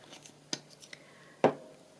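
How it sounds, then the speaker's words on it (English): Scissors snipping paper while making a travel journal, a few faint light ticks followed by two distinct sharp cuts, the second louder and closer, in a quiet room. "Scissors."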